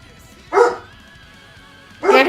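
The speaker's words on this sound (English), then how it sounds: "Please ignore my dog." A pet dog barks twice indoors, two loud sharp barks separated by about a second and a half of quiet, with a faint steady hum in between.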